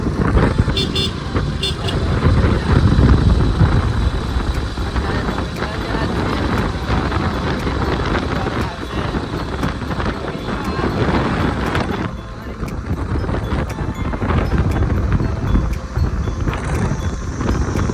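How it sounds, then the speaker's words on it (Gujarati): A motorbike riding along a village road, with heavy wind buffeting the microphone in a loud, continuous rumble, engine noise blended underneath and a voice talking briefly over it. "જીગોભાઈ બાઈક ચલાવો."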